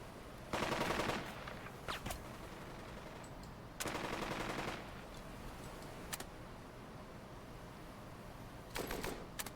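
Machine gun and rifle fire in the wartime strategy game Burden of Command: three loud sustained bursts of rapid automatic gunfire separated by scattered single shots, over a steady background hum.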